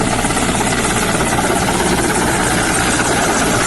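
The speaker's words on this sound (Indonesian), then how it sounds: "upaya pemadaman juga dilakukan melalui udara lewat helikopter bombing" A water-bombing firefighting helicopter fighting forest and land fires on Kalimantan roars steadily overhead, a loud, continuous engine and rotor drone with no voices.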